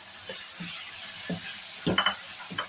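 Fried chonga (Caralluma fimbriata) vegetable pieces drop into tomato masala in a pan, giving a close, steady sizzle with a few clinks and stirring scrapes near the end, no voices.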